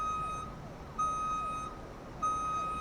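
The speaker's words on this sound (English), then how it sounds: "Oh, an interesting reversing beeper." Reversing beeper on an electric Volvo VNR truck in American Truck Simulator, three long steady beeps in even rhythm, loud and close over a low background hum.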